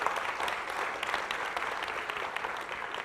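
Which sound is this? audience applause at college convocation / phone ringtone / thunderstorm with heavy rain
audience applause at college convocation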